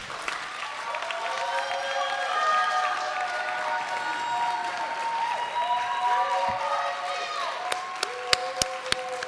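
An audience at a school board candidate forum claps and cheers for the candidates, a sustained wave of applause and crowd noise with a few sharp sounds near the end.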